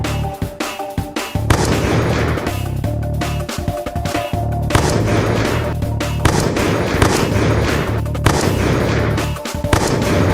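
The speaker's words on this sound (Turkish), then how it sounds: "Bomba atayım." Video-game bombs and blasts go off repeatedly, loud and booming, with crackling bursts layered over a continuous rumbling battle din.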